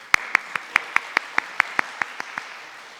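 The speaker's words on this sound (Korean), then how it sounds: "감사와 응원의 박수를 좀" A church congregation claps together in a steady, even rhythm, about a dozen crisp claps in three seconds, fairly close and with no voices over them.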